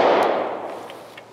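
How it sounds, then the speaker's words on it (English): A single gunshot from a Glock 26 Gen 4 pistol, a sharp close crack followed by a decaying tail lasting about a second. "Okay, I'm gonna keep shooting it."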